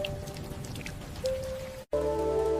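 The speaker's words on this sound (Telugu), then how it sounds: "మొదటి చినుకు నేల మీద పడింది." Rain starting to fall as a sound effect: a soft patter of raindrops on a surface with a steady tone, a short full gap of silence, then the pattering returns alone.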